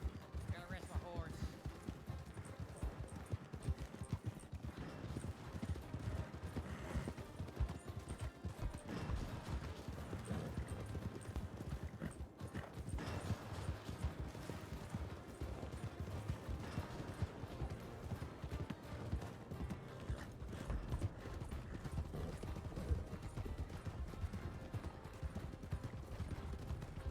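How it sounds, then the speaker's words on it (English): Horse hooves clip-clop steadily in Red Dead Redemption 2 (RedM roleplay), a continuous quiet rhythmic clatter of hoofbeats running throughout under faint game ambience. "Gotta rest my horse."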